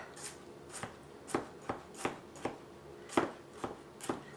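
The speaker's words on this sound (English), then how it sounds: "Now I'm just going to get these all minced up" Garlic cloves minced with a knife on a cutting board make a quiet, uneven run of sharp chops, about a dozen crisp taps spaced irregularly, close and alone without talk.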